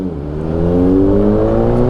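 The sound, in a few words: motorcycle exhaust revving, Honda Click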